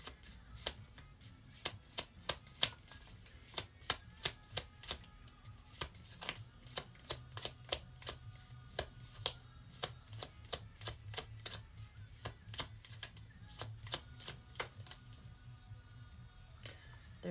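A deck of cards is shuffled over and over, making crisp, evenly spaced riffling snaps that run steadily for the whole stretch against a quiet room.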